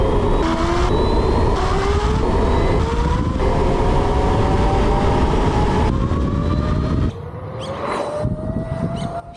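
A motorcycle rides on tubeless tyres, and a continuous tyre whine rises in pitch under loud, steady road and wind roar, close and constant throughout.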